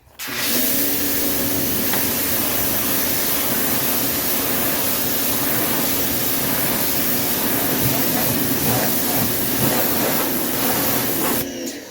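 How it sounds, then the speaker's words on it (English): A pressure washer rinses degreaser off the engine of a 1984 300D, a loud steady spray hiss running almost unbroken for the whole stretch before cutting off at the end. "And now we're just going to wash off the degreaser."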